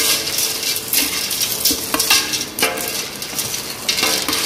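Elbow macaroni is stirred in a pot for Filipino sopas, with a steady scraping and clinking of spoon against metal over a soft sizzle, close and busy for a few seconds.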